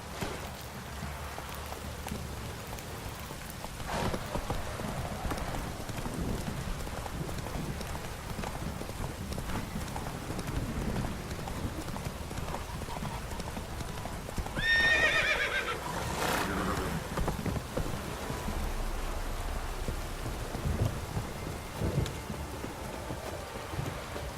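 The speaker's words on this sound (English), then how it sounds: "This downpour's a bastard, it is." Steady rain hisses throughout in The Witcher 3, with a horse whinnying and hooves clopping partway through, and a brief bright chime around the middle.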